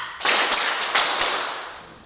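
Group hand clapping in a classroom counting clap game, a burst of several sharp claps merging into a dense, fairly close patter that tails off.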